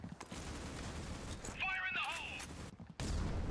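A grenade goes off in a video game during a Worlds 2023 esports match, a dense burst of game noise and crackling gunfire around it, with a brief whistling tone mid-blast and commentators talking over the action.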